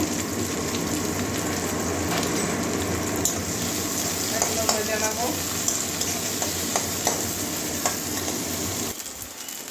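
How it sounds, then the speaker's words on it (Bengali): Onion and green chillies frying in a pan, a loud, steady sizzle with occasional spatula scrapes and clicks, close by, cutting off abruptly near the end. "একটা বড় সাইজের পেঁয়াজ নিয়েছি কাঁচা লঙ্কাও দিয়ে দিচ্ছি"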